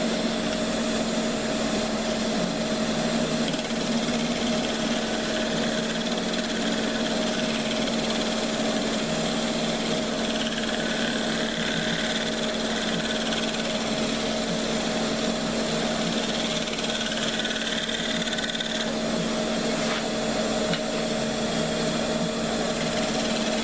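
A wood lathe spins a vase blank held in a chuck, giving a constant motor drone with a steady tonal whine that runs unbroken for the whole stretch, with no voices.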